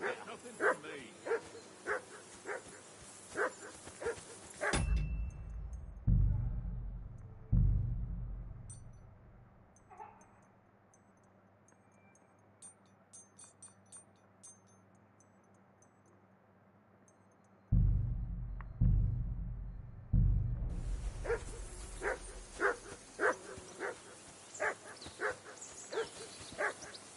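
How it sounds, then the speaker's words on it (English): Dog barking in the medieval game Kingdom Come, a rapid run of loud, close barks and yips at the start and again near the end, with a quiet lull between broken by a few heavy thumps. "Jesus, Henry, that barking's driving me nuts. Can you get your dog to shut its beak?"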